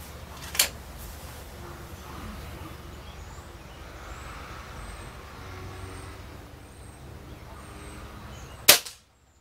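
Two sharp air rifle reports from a Benjamin Prowler .22 fitted with a monocore silencer, one near the start and one near the end, each a crisp snap over a quiet outdoor hiss.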